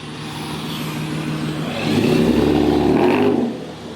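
A Ford Mustang V6 with a full straight-pipe exhaust running close by. A loud, steady engine drone swells into a heavier, rougher rev for about a second and a half, then eases back.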